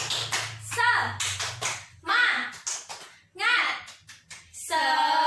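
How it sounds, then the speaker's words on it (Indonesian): A second-grade class in an Indonesian classroom performs the tepuk semangat chant, young voices calling out in bursts between crisp rhythmic group clapping, loud and close. "kita tepuk semangat dulu ya"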